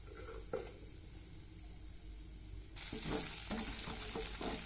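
Flattened rice (poha) frying in a pan for Bengali chirer polao, a soft low sizzle that swells abruptly into a loud hissing fry with stirring scrapes, close and with no talking.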